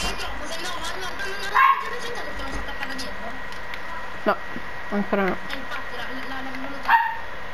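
A pet dog barks a few sharp, separate times and whimpers in a room while someone talks over game sounds, with high electronic beeps mixed in.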